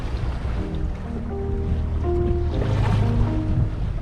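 A sailboat under regular sails, not light-wind sails, scoots along through the waves, with steady water rush and wind noise against the hull and low rumbling tones throughout.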